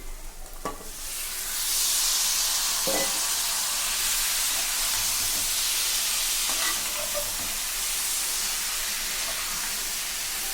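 Chicken drops into frying masala in a pan, bursting into a loud, steady sizzle and hiss, with a few stirring clatters near the start and a continuous spitting crackle throughout.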